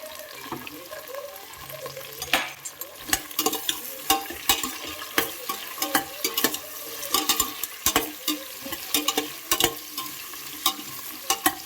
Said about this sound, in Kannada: ಮುಲ್ಲಂಗಿನ 5 ನಿಮಿಷ ಎಣ್ಣೆಲಿ ಬೇಯಿಸ್ಕೋಬೇಕು.